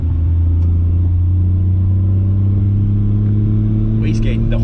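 A turbocharged Supra truck engine runs at wide open throttle with no boost controller, a loud, steady low rumble with strong droning harmonics up close, with a brief higher hiss near the end.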